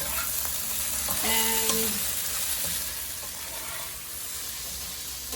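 Okra (bhindi) fries in a non-stick pan with a little oil, giving a steady, close sizzle with brief stirring clatter, while a voice speaks faintly over it.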